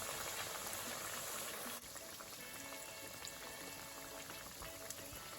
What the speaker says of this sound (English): So now these are frying beautifully and looking golden brown.